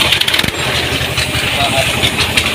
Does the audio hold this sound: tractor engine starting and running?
yes